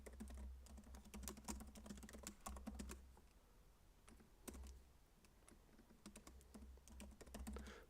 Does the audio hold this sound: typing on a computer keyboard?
yes